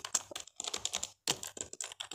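Keys clatter steadily on a computer keyboard as a comment is typed into a Microsoft Excel spreadsheet, with quick close bursts of keystrokes and a brief pause partway through.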